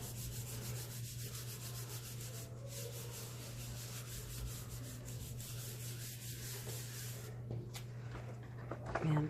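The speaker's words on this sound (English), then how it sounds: "then you follow the same steps of rubbing it from the back" Paper laid over a printmaking block is rubbed from the back by hand, a soft, steady, close scraping and swishing that continues without a break under a low constant hum.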